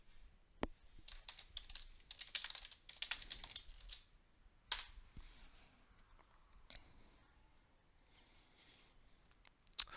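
Quiet bursts of typing on a computer keyboard, close and crisp, with irregular clusters of keystrokes, pauses, and a few sharper isolated clicks.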